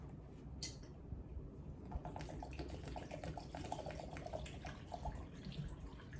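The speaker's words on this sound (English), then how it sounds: "And finally is the coconut water, and I'm going to strain that." Coconut water being strained, a faint trickling and dripping of liquid pouring through a strainer, quiet and continuous for several seconds with a few small clinks.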